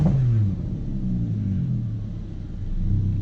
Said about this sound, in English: I'm gonna hold the button and rev this engine same time